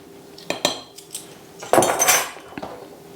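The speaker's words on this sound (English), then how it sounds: "And we'll whisk those in as well." Salt and baking powder are whisked in a bowl, heard as a handful of sharp metallic taps and clinks against the bowl with a short brisk scraping burst in the middle, close and clear with no talking.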